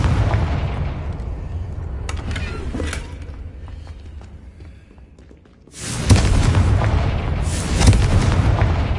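Confringo blasting spells bursting in Hogwarts Legacy, heavy booming explosions with a sustained loud rumble, a quieter lull mid-way, then another powerful blast swelling up and rolling on.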